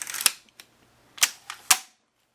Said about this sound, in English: We're going to actuate the bolt again